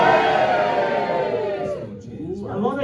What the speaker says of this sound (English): a lot of yay, very heavy booing from these people again